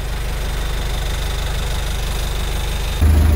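A 1977 Toyota Land Cruiser BJ40 engine idles with a steady, rough, chugging rumble, then the level jumps briefly near the end.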